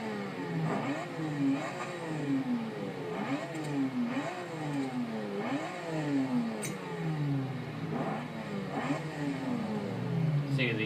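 A 2013 Aston Martin V12 Vantage S in Forza Horizon 2 revs repeatedly, its engine note climbing and dropping in a steady rhythm of rising sweeps, fairly quiet and continuous without talk.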